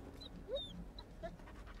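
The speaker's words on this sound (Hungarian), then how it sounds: "itt valami kutya hangot hallok" In the survival video game 7 Days to Die, a dog gives short high whimpers and yips against a quiet background, fairly faint.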